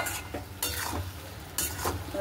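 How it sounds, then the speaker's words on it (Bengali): Fish pieces being stirred in a pan with cumin powder, chilli powder, turmeric, salt and whole chillies: two scraping strokes of a spoon against the pan over a low sizzle, close and fairly quiet. "তো এটাকে ভালো করে মিশিয়ে নেব।"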